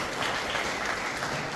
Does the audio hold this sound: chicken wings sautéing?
no